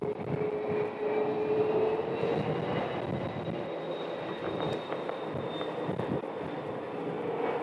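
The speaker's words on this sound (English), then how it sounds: "And we have an American that's taxiing out for departure." An American Airlines jet taxis for departure at Phoenix Sky Harbor airport, a loud steady jet engine roar and whine with a slowly shifting high tone, heard from nearby and continuing throughout without talking.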